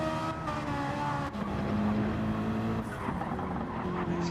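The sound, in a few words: Ferrari race car engine in a video game at Nürburgring Nordschleife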